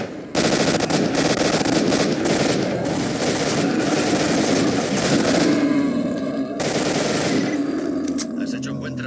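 Sustained automatic gunfire aimed at mutants in the video game S.T.A.L.K.E.R., loud and nearly continuous for around nine seconds with brief pauses, mixed with growling creature roars.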